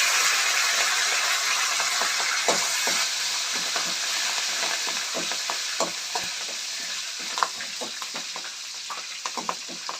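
Curry leaves hiss and crackle in hot oil while tempering for an onion- and garlic-free buttermilk sambar, a steady close sizzle with scattered sharp pops that thin out slightly toward the end.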